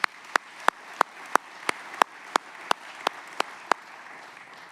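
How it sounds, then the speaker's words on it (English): Sparse, evenly spaced claps ring out at a regional chamber of commerce annual meeting, about a dozen sharp, close hand claps in a steady rhythm over a quiet room, with no crowd swell. "Let's give him a round of applause as well"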